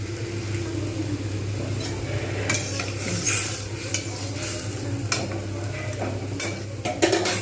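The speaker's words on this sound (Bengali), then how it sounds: "ব্যাস ফুটে উঠেছে।" Water comes to a boil in a pan on the stove while making rui fish curry with black cumin seed, giving a steady bubbling hiss with light clinks and scrapes of utensils against the pan.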